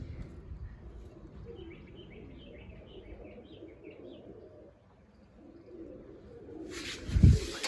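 A crested pigeon coos faintly in a low, soft murmur, while small chirps repeat above it and a sharp thump lands near the end.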